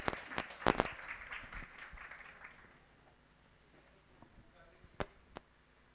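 A seminar audience applauds to welcome a speaker, a fairly faint, dense patter of clapping that fades over a few seconds, followed by quiet with a couple of isolated sharp taps.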